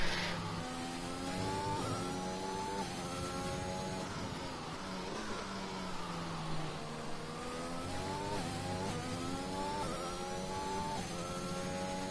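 Aston Martin race car on a wet out lap at Imola in a racing video game, engine revving up through the gears with repeated rising pitch sweeps and downshifts, steady and close with no talk.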